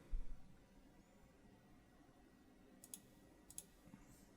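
A few faint computer mouse clicks, a pair of sharp taps near the end, over a quiet background hum with no speech.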